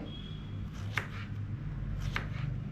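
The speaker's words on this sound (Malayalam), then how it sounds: "ഇതുപോലെ നമുക്ക് വളരെ കനം കുറച്ച് കട്ട് ചെയ്യാം" A knife slices a cucumber thinly for a salad, giving two soft, crisp cuts about a second apart over a quiet, low background hum.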